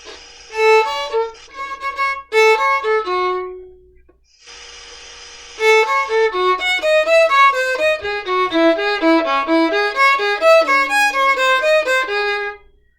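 Bach's Preludio, fourth section, played in tempo as clear pitched melodic lines with steady fast note runs, a short pause near four seconds, then continuous phrases to the end; no talking.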